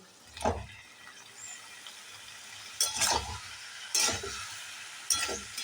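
Boiled jackfruit stirred and sautéed in a pan with a little added water, with a soft steady sizzle broken by four scraping, clinking strokes of a spoon against the pan.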